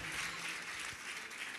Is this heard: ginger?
no